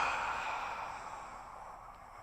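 A person exhales during a pelvic-floor and hip-flexor breathing exercise, letting out one long, steady, breathy rush of air close to the microphone that slowly fades.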